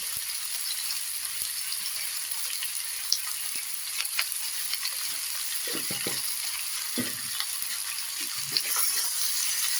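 Potatoes frying in a pan with salt and turmeric give a steady, close sizzle throughout, with a few short louder scrapes or stirs near the middle and end.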